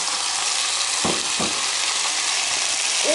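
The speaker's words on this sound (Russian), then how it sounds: "Тут у меня такой процесс, шкварчит все." Steady, loud sizzling of mushrooms and onion frying in a pan, with a couple of soft stirring scrapes partway through.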